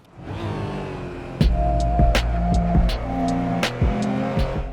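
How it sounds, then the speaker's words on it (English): A GT4 race car in Assetto Corsa laps Thunderhill West, its engine droning steadily, then revving hard through a series of sharp upshifts and downshifts, each marked by a quick bark, loud and close throughout. "I'm about to take turn 1 in this GT4 in Assetto Corsa"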